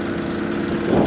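A tractor engine idles steadily at close range, a continuous low rumble with a slight swell toward the end, while a go-kart is worked on nearby.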